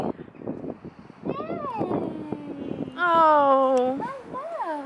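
A cat meows outdoors in a clear, rising and falling call, loud and close, repeated a few times while people talk around it.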